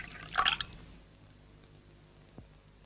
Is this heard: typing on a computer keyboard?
no